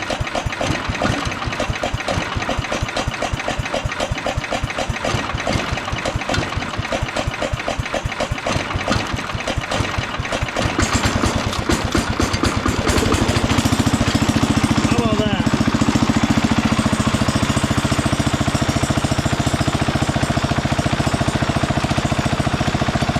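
A 1968 Wheel Horse Commando 8 tractor's small engine chugs in rapid steady beats, then catches and settles into a louder continuous run with throttle raised, close and loud throughout.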